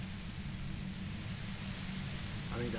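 A violent, overwhelming hiss of white noise from a compressor in the game Disco Elysium, a steady, broadband rush of static that holds constant throughout, fairly faint overall with no speech over it.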